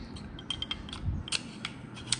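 The slide is fitted onto an Aksa SIG Sauer P365 blank pistol, with a few small, close metallic clicks and scrapes over quiet handling noise.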